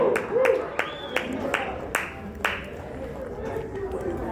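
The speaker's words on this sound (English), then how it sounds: "Huge round of applause for Leo from Fashion.ai." Scattered claps ring out in a small crowd at a startup demo night, celebrating the winner from Fashion.ai. A few sharp, separate hand claps sound fairly close under voices talking and cheering.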